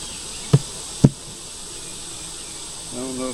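Honey bees drone faintly and steadily around a hive, with two sharp knocks near the start and a brief rising buzz at the end; no voices.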